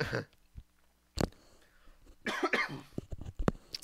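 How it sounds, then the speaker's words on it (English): A single sharp cough stands out near the start, followed by a few smaller throat noises and mouth sounds, close and fairly quiet. "I had to take a little bit of a cough"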